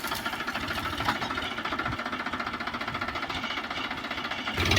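A tractor engine runs steadily while harrowing a field, a continuous close, loud rhythmic chugging drone with a knocking pulse that holds even throughout.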